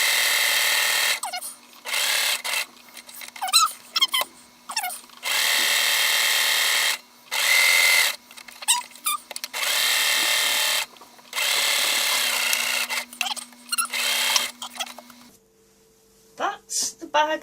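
A sewing machine stitches a quilted bag seam in repeated loud bursts, starting and stopping with brief reverse runs to lock the stitches, with a steady motor hum running underneath the bursts and gaps between them.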